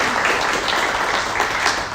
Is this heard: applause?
yes